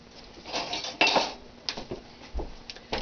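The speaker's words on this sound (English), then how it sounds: "So now I've got to find my whisk." Kitchen utensils clatter and clink in a drawer or tray while someone rummages for a whisk, a few sharp metallic knocks standing out from quieter shuffling.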